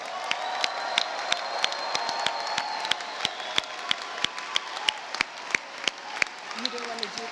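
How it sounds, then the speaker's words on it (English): An audience at the DigiPen Institute of Technology 2023 graduation ceremony applauds its graduates: steady crowd clapping with a few loud, sharp claps nearby and faint cheers, and voices come in toward the end. "please join me in giving a round of applause for all of our graduates."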